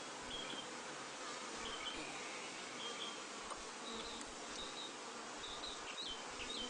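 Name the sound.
honeybees in a hive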